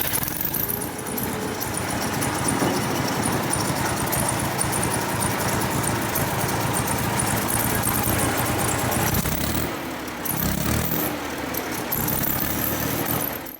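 A Massey Ferguson tractor engine starts and settles into a loud, rough, steady running roar close by, with a brief dip and squeal near the end.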